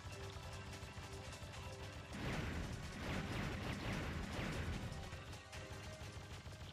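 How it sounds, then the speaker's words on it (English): Rapid machine gun fire and explosive crashes from the shoot-'em-up video game Einhander, a dense burst of bangs and impacts swelling loud in the middle over a steady game soundtrack. "the default machine gun's usually enough to go and take care of it"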